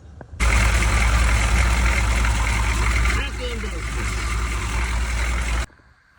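An old squarebody pickup truck engine runs loud and steady, with a hole in the return line, then cuts off abruptly after about five seconds, someone speaking over the rumble.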